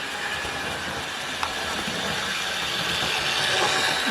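A small Hornby model train, a Schools Class locomotive, hums and rattles steadily along its track, with a faint click partway through and the sound growing slightly louder toward the end.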